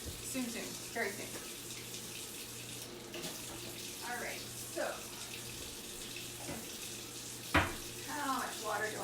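Water running from a kitchen tap while pizza dough is being made, a steady low rush under intermittent talking and a few clattering knocks.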